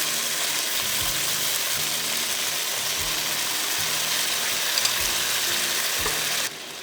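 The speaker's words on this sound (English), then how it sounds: "Add in 2 sardines and the tomato sauce into the pan." Sardines with tomato sauce fry in a pan, giving a steady, close sizzle and crackle with low stirring knocks under it that drop away abruptly at the end.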